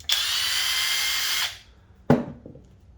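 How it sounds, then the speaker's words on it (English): A Flex cordless impact driver on speed 1 whirs steadily at high pitch for about a second and a half, winds down, then a short sharp clack follows. "here is the Flex impact driver in speed 1."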